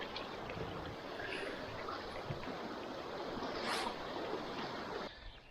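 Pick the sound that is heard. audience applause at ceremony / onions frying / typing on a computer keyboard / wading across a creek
wading across a creek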